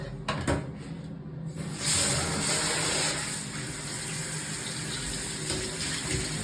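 Water gushes steadily from a shower down tiled shower glass treated with a protective crystal coating. A brief quiet gap comes before a continuous, fairly loud splashing flow.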